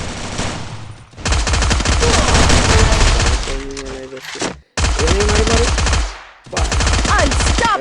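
Automatic gunfire in the battle royale game Free Fire rattles in long, dense bursts broken by brief pauses, loud and close, with a voice talking over the shooting.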